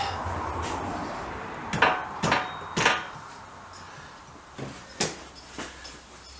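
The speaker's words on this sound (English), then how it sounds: "Let's give that a tap down with a soft hammer to get them seated." Several dull taps of a soft-faced hammer seating parts on a Triumph 500 Otter motorcycle, in two short bursts of three, moderately close over a steady background hiss.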